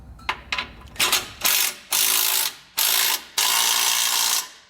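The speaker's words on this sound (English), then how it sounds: "We're going to snug down our bolts." A ratchet driving a 15/16 socket snugs down bolts on a Blue Ox base plate being installed on a 2013 Jeep, with short clicking bursts at first, then longer sustained ratcheting runs, loud and close.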